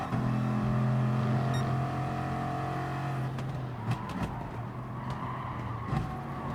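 Bugatti Veyron race cars in the racing game GT Sport at Lago Maggiore, a steady engine whine holding, then easing with gear changes and brief clunks, close and without talk.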